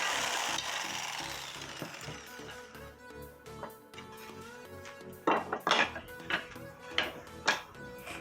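Wooden strips for a towel rack being cut, with a rough rasping cut at the start, then a run of irregular knocks and clatters of wood and tools that gets louder and more scattered toward the end.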